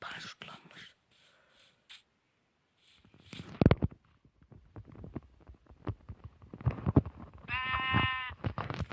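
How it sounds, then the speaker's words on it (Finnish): A Minecraft sheep gives a short wavering bleat near the end, following quiet game sounds, soft clicks and footsteps, while a voice talks quietly in between. "Lammas. Mä nappaan sut, lammas."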